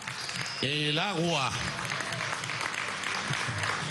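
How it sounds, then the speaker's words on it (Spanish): A crowd at a Venezuelan public ceremony in Ciudad Bolívar breaks into applause, a dense steady wash of clapping that begins under a brief spoken phrase and continues on its own. "vamos a darle un aplauso a Ciudad Bolívar"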